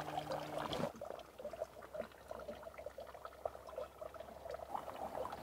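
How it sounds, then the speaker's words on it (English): Rainwater pours from a diverter bucket down into a garden pond, a soft continuous trickle and splash that carries on steadily after a brief louder burst at the start. "When it gets heavy enough, the water then flows down on into the pond."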